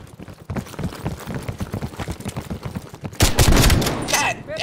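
Gunfire in the video game Call of Duty Cold War, shotgun blasts and rapid shots popping over game noise, with a louder burst of sustained firing near the end; a player talks over parts of it.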